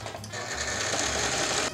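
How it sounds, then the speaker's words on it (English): A sewing machine stitching fabric wings from the centre out toward the tips runs in one steady, close, fast whirring burst with a continuous mechanical hum, no voices. "it's best to start from the center of the wings and then sew our way out to the tips"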